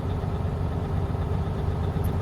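A vehicle engine is held at about 1,000 RPM during an air brake pressure build-up test, a steady low rumbling drone with no talk.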